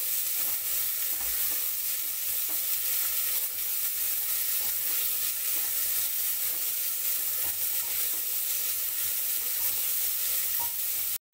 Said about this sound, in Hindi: एक मिनट इसको अच्छे से भून लेंगे।